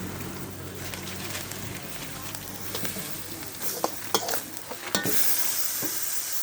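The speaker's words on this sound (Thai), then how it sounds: "น้ำมันกระเด็นใส่กระทะ" Pork stir-frying in hot oil in a pan for Thai basil pork, a steady close sizzle with scraping stirs and a few sharp spatters near the end.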